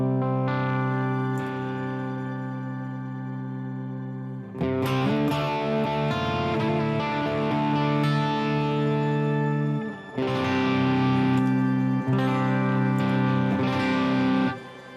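Electric guitar played through a distortion effect on a Line 6 Helix-style modeler, sustained chords ringing loud and continuous with a few sharp restrikes and brief dips, no voices.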